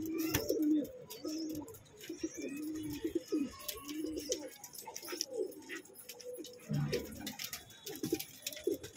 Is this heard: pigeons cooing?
yes